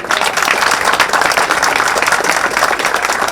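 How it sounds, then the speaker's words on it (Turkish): A crowd claps and applauds continuously at an event held on a tennis court, loud and dense throughout, with no break. "Onlar için bir defa daha bir alkış alalım."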